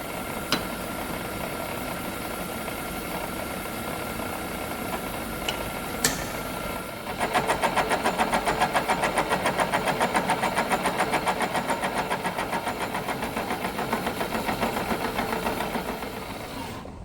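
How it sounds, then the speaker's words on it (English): A fly cutter milling a shop-made heavy duty button tool holder, starting after a steady motor hum and then beating in a fast, even rhythmic chatter that holds for about ten seconds before easing off. "So we've done this using a fly cutter."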